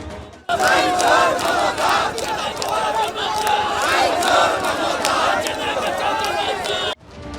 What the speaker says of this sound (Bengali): মিছিল থেকে ওঠে মুহুর্মুহু স্লোগান।